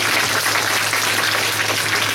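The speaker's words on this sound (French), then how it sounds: "Merci pour les applaudissements les filles" Audience applause at a live French ventriloquist comedy show, a steady dense wash of clapping filling the room at even loudness throughout, with no voices over it.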